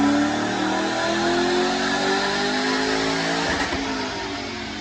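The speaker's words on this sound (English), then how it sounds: "Check out this dyno pull." A supercharged 2005 Ford Mustang with a Vortech supercharger, cams and headers revs hard on a dyno pull. The loud, steady engine roar climbs in pitch throughout, with supercharger whine on top, then eases slightly at the end.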